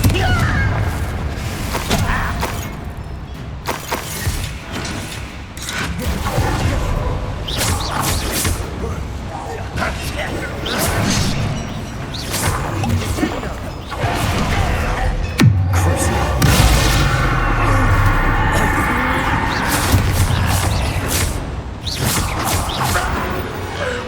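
Spell explosions from Bombarda and Confringo in Hogwarts Legacy, heard as a string of heavy booms and thuds over dense game noise and music in an underground lair, with a voice speaking at points.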